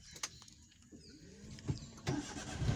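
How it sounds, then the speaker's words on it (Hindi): A car's engine being started, a faint crank and catch building into a low idle, with a few clicks and thumps around it and no one talking. "स्टार्ट करतानी गाड़ी और देखी कहाँ जातानी"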